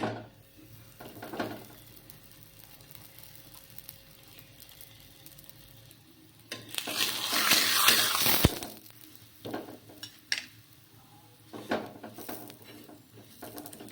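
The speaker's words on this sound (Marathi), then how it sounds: "आता आपण दामट्या शेकून घेऊया" Damatya dough rounds roasting in ghee on a hot griddle, a soft steady sizzle with light scraping and clatter, swelling into a louder burst of frying hiss midway before settling back to quiet patters.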